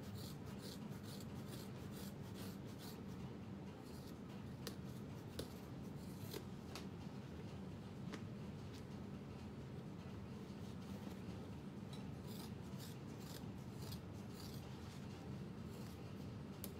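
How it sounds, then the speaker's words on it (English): Scissors trim excess seam allowance on a handmade sewn satchel, giving quiet repeated snips and rubbing of fabric at a steady working pace, faint and close. "so I'm gonna trim my excess seam allowance"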